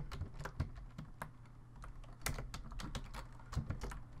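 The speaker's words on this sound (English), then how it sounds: "I'm gonna type in player" Someone types on a computer keyboard, producing quick, uneven clusters of light key clicks that are close but quiet, with short gaps between bursts.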